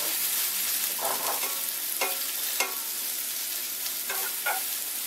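Vegetables are stir-fried for japchae, Korean glass noodles with vegetables. A continuous close sizzle runs throughout, broken by several short scraping clacks of the spatula against the pan, with no speech.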